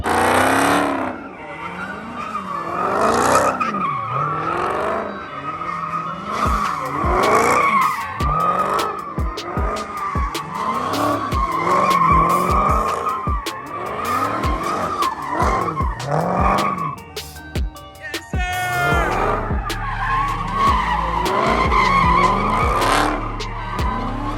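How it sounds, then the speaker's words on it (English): A car slides with its tires skidding through a long run of repeated squealing screeches that rise and fall in a steady rhythm, loud and close, with the engine revving beneath them and no talk. "I'll even put in here a clip of me sliding my car recently."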